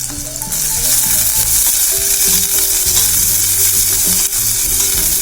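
Sweet gourd sizzles steadily in a hot pan over full flame, a loud, continuous frying crackle with some stirring and clatter underneath and no talking.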